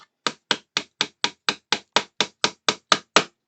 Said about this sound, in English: And I'm going to hammer this all the way down.